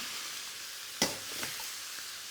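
Pork stir-frying in a wok for Hokkien mee, a soft, steady sizzle with one sharp clatter of the tool against the wok and a fainter knock after it.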